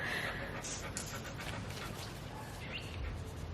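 A dog pants close by in a steady, breathy rhythm, with faint bird chirps in the background.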